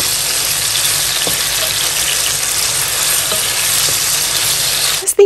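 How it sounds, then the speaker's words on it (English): Steady, bright sizzling of onions and cured beef frying in hot oil, continuous and close, with a few faint stirring knocks and a clatter at the end. "frying the onions and the beef for about 3 minutes"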